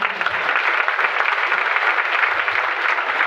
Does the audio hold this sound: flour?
no